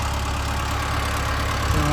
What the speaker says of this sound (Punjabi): ਇੱਧਰ ਟਰੈਕਟਰ ਚਲਾਇਆ ਹੋਇਆ ਜਨਰੇਟਰ ਆਪਣਾ ਦੂਜਾ